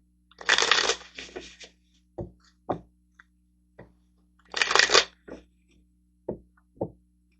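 Tarot cards are shuffled in two brisk, close bursts, each followed by single cards being drawn and snapped or tapped down in a sparse rhythm.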